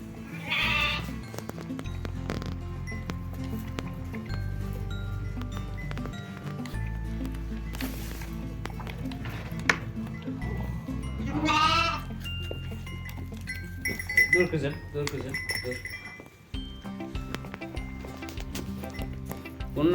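Sheep bleat repeatedly while a ewe is held so her lamb can suckle, some calls close and loud, others fainter, over a continuous low rumble with occasional shuffling.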